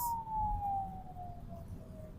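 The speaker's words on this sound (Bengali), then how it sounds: "অ্যাম্বুলেন্স ছেড়ে দিত, ইমার্জেন্সি ফার্স্ট।" An ambulance siren sounds outdoors on a rainy day, a steady wailing tone slowly falling in pitch as it passes at middle distance, over a constant wash of rain and low traffic rumble.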